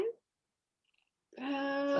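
Hungry cats meowing and squabbling indoors: a brief vocal burst at the start, a pause, then a sustained, loud, harmonic yowl or caterwaul that holds steady to the end.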